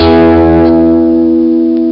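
Electric guitar lick with a three-string chord slide, one strong chord ringing out and sustaining with effects and reverb, played alone and fairly loud.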